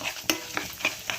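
Spices tempering in hot oil in a pan for an aratikaya (raw banana peel) pachadi, a soft crackle with several distinct pops and a stirring scrape at a steady spaced rhythm, close and quiet.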